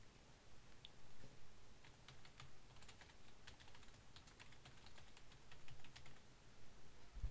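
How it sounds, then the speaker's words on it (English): Quiet, rapid clicking of keys on a computer keyboard as an email address is typed, a steady patter of light taps over faint background hiss. "and then type in your email address"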